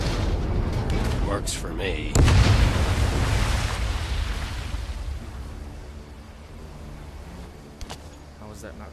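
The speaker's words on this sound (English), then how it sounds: "That explosion got the attention of all the German patrols in the area." In the Meta Quest 3 VR World War II shooter Medal of Honor: Above and Beyond, a sudden deep boom bursts out and rolls away into a fading rumble, with someone speaking around it.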